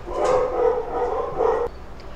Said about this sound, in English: you're hearing my dogs in the background there